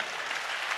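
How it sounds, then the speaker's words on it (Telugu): An audience at a Christian sermon gathering claps loudly and steadily, a dense even wash of applause throughout with no pauses. "చప్పట్లు కూడా గట్టిగా"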